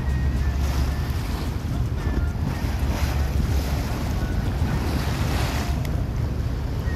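Loud, steady wash of rough, churning water with a heavy low rumble and wind buffeting the microphone, continuous throughout with no voices.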